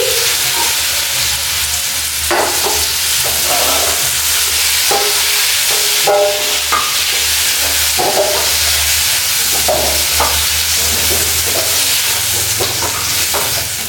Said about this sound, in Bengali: আমার আলুগুলো ফ্রাই করা হয়ে গেছে, আলুগুলো লাল হয়ে গেছে। তো এবার আলুগুলো আমি তুলে দিচ্ছি।